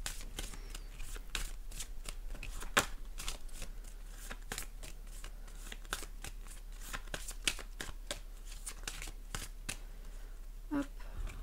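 Tarot cards for a Gemini horoscope reading are shuffled close up, giving a dense, continuous riffle and slap of cards with a few sharper taps, soft and steady throughout.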